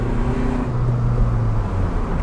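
A Honda Civic FK7 with a custom air intake is driven in second gear, its engine giving a steady droning rise heard from inside the cabin, with road noise and no talk.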